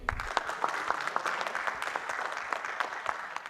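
A seated crowd at a political theory panel gives another round of applause, an even patter of steady clapping from a modest-sized group throughout.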